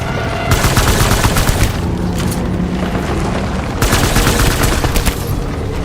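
Sustained rapid gunfire while shooting enemies in Death Stranding on Very Hard, loud and dense booming bursts with a brief lull near the middle, no talk over it.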